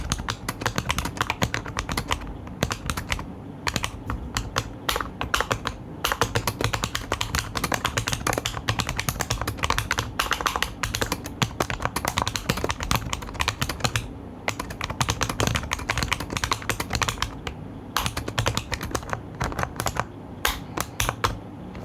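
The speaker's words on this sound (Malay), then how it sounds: "Dia punya mechanical switch memang puas lah untuk korang typing dan juga gaming." Fast, continuous typing on an Armaggeddon MM-98S mechanical gaming keyboard, with crisp, loud, close clacks in a dense, uneven rhythm broken by a few short pauses.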